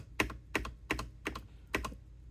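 Space bar on a Keychron C2 full-size wired mechanical keyboard with Keychron Red switches, pressed five times in an uneven rhythm. Each press gives a close, fairly quiet thock with a quick double click, and nothing else is heard.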